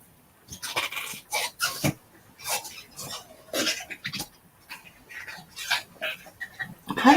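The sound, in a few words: dog chewing his toy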